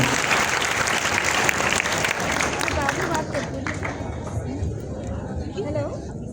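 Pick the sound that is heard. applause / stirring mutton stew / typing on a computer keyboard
applause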